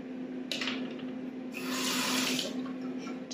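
Water runs from a tap for a gold dig toy kit, a steady close hiss that swells louder midway and then eases, with a faint constant hum underneath and no talking.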